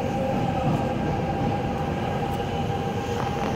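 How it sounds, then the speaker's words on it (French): Trains rumbling past underneath, a continuous low, steady roar with a faint metallic hum, heard as a constant drone throughout. "en dessous, il y a des trains qui passent."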